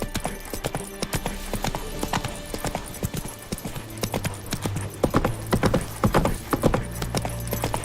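The horse Roach trots in The Witcher 3 video game, its hooves beating a steady, close clip-clop rhythm that grows louder toward the end, with a faint whinny underneath.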